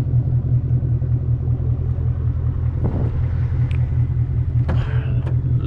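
A 2021 Ford Mustang GT Premium V8 rumbles low and steady from inside the cabin while cruising, with a few faint clicks and knocks over the constant drone.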